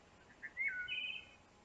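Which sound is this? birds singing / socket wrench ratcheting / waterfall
birds singing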